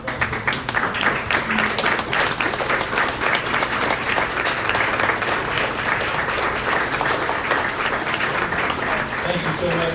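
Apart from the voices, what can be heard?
audience applause at town hall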